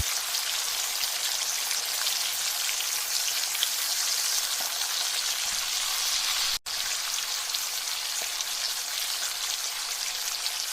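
Sambal potatoes and anchovies stir-frying in a pan, a steady close crackling sizzle that runs throughout with one brief dropout midway.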